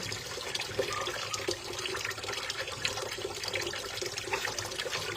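Dishes being washed under a running tap at home, a continuous close rush of water splashing into the sink with faint clinks of plates, steady throughout.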